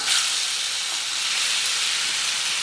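Chopped banana sizzles in a teaspoon of ghee in a pan, giving a loud, steady frying hiss that runs without pause.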